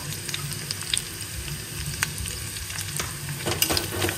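Ginger and green chili frying in a pan, a steady close crackling sizzle with sharp pops and occasional spoon stirring clicks, no talk.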